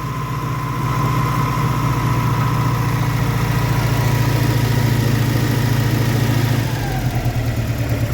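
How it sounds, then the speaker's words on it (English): A small, quiet V4 engine idles steadily with a low, even hum and a fan whirring over it, close by, continuous and without voices. "It's a quiet little motor."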